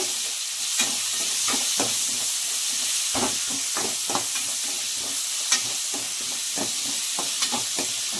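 Onion and curry leaves frying in a pan for a drumstick and dried fish curry, a steady hissing sizzle with frequent spatula scrapes and clicks as they are stirred, close up.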